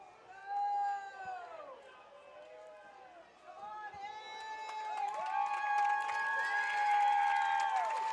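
A crowd cheers and shouts in the stands at a high school football game just before kickoff, swelling from scattered calls into louder sustained cheering with whistling tones, fairly distant and mixed with chatter.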